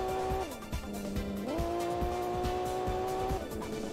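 Cars on a racing track in the PlayStation game Tuning Car Battle Spec R give sustained engine tones that drop and rise with gear shifts, with tire squeal and looping game sounds over a continuous backdrop.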